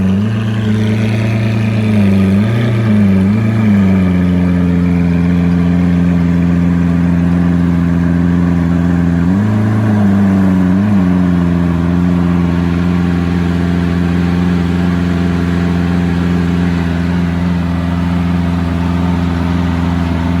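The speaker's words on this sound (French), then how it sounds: "Je parle fort parce que l'échappement il fait tellement de bruit." Lamborghini Aventador idling close by in Monaco, with a loud, steady, deep exhaust drone and two brief throttle blips partway through.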